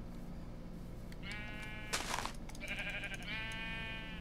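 A sheep bleats in a video game: three drawn-out, wavering bleats come one after another at a modest level against a soft background hum.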